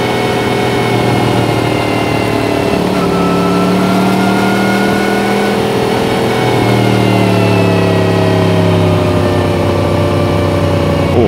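Honda motorcycle engine, an X4 or a CB650R inline-four with strong low-rev torque, running steadily on a winding county road, a loud continuous drone with shifting harmonic pitch as it revs and changes gear.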